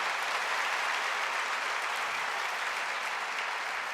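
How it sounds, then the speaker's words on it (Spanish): A church congregation gives a short, dense burst of applause honouring their parents, steady and loud throughout with no voices on top. "¿qué tal si damos un aplauso de bendición y honra por todo lo que han hecho por nosotros?"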